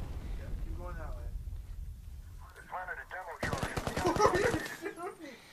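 Rapid automatic gunfire bursts in the Medal of Honor Warfighter video game, loud and dense for about a second mid-clip, with talking before and after the shots.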